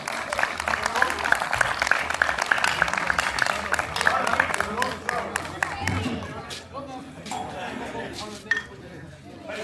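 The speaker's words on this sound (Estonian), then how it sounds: "Hurra, aplaus!" A crowd at the finish of the Kihelkonna folk rally in Estonia applauds and cheers, scattered claps and clinks ringing out over busy chatter, the clapping thinning toward the end.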